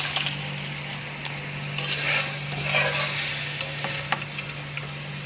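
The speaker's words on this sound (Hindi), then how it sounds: "हमारी जो चिप्स हैं वो बहुत ज़बरदस्त फ्राई हो चुकी हैं। अब हम इसको डिश आउट करेंगे।" Fried potato chips are stirred in hot oil and scooped out of the pan, with a steady sizzle beneath occasional sharp metal clinks and scrapes of a utensil against the pan, close by and without speech.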